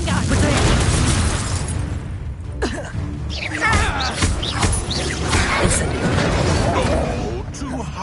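A Confringo fire spell blasts in a video game, giving booming explosive bursts and crashes amid busy game effects, loud and close, with a person talking over them throughout.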